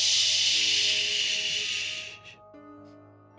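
Steam hisses loudly and broadly for about two seconds, then tapers off, layered over a steady low hum with faint tonal lines and a brief short hiss at the end.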